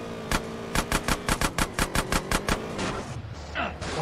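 An SMG fires about a dozen evenly spaced, punchy shots in a quick rhythm during a gang fight against the Ballas in GTA San Andreas Definitive Edition, over a low engine-like drone, then falls quiet.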